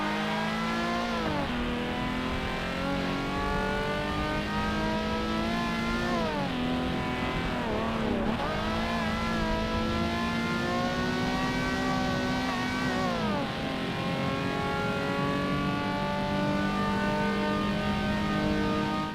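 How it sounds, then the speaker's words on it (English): A Honda Accord in the Forza Motorsport racing game, fitted with exhaust upgrades, revs hard and loud through repeated climbing and dropping engine sweeps, close and continuous with no talk. "I'll include a little clip here of what it sounds like with the exhaust upgrades"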